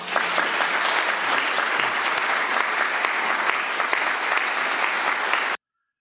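Parishioners in a church applaud a priest's homily with dense, sustained clapping from a large crowd for about five seconds before it cuts off abruptly into silence.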